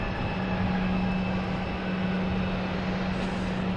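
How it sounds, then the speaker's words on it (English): An airliner at Boston Logan Airport idles loudly and steadily, a continuous engine roar with a strong low hum running unbroken throughout, with no voices. "I like the plane too, but it is very loud. Especially when it goes to take off, it'll just sit here and idle and idle and idle."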